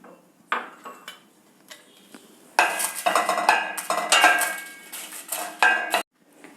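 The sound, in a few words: frying dried vattal in a pan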